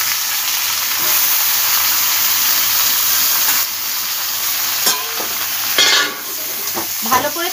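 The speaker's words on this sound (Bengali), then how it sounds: "ভালো করে তেলে পুঁই শাকটা নেড়ে নেব।" Malabar spinach fries in oil with a constant near sizzle and hiss, while a utensil stirs and scrapes the pan in several short knocks toward the end.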